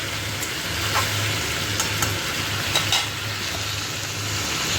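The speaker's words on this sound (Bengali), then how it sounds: "এটা মোটামুটি ভেজে মানে ভাজা কমপ্লিট মশলাটা দিয়ে দিচ্ছি" Food fries in a pan for a home-cooked dish of kochu loti with prawns, a steady loud sizzle running continuously with a few clinks and scrapes on top.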